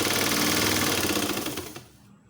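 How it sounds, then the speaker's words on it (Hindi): Sewing machine running steadily while stitching elastic into a child's trouser for a three-year-old, a dense continuous mechanical whir that slows and stops near the end, no talking. "इसको इलास्टिक को खींचते जाएं और सिलाई करते जाएं।"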